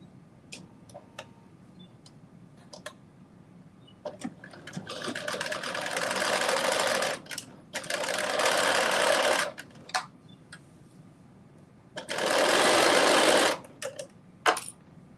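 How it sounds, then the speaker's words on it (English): A sewing machine stitches up the side seams of a skirt in three sustained loud runs of whirring, rapid stitching, with scattered clicks and handling noises in the pauses between. "now I am going to stitch up both sides from top to bottom"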